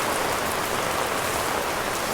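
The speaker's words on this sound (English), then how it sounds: "Oh, heavy rain again." Heavy October rain in Vietnam pours steadily, a dense, even hiss of drops hitting surfaces, loud and continuous with no voices.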